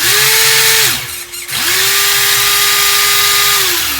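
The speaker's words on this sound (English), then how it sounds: "Full throttle in forwards, full throttle in reverse." Loud, close electric whine of an RC drift car motor at full throttle, rising and holding, dropping off briefly, then spinning up again in reverse with a sustained high tone.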